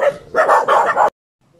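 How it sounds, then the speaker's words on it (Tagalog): Several quick, loud dog barks come from close by along a creek in an urban neighborhood in Pasig City, a short burst of three or four yaps that cuts off abruptly into silence. "Ngayon ito may mga nakita pa rin akong aso dito"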